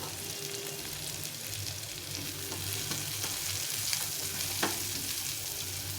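Chopped onions frying in butter hiss in a constant close sizzle, with a few faint stirring clicks.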